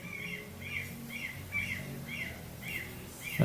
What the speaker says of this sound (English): And yes, there are seagulls you're hearing outside.